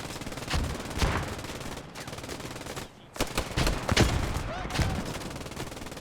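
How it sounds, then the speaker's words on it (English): Machine-gun fire rattles in the World War II shooter Post Scriptum during a Market Garden battle at Nijmegen. Loud, dense bursts come in waves with a brief lull midway, and a voice may be faintly present. "That MG fire straight through the doorway"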